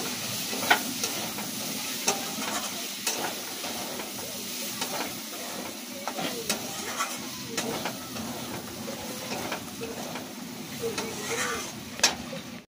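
A ladle scrapes and stirs inside a kadai while fish-oil curry fries, with repeated sharp metal scrapes over a constant close sizzle.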